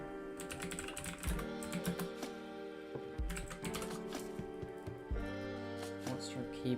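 Close computer keyboard typing in quick irregular bursts of clicks, sitting over steady background music.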